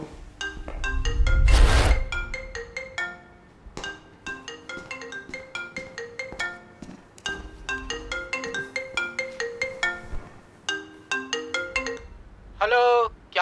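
A mobile phone ringtone plays a rapid, repeating chiming melody in steady bursts for many seconds after a loud rushing swell at the start, ending with a brief voice.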